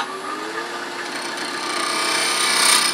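A spindle roughing gouge cuts into spinning wood on a lathe to round over its edge. It makes a steady, close scraping and rushing hiss that swells slightly toward the end of the three seconds.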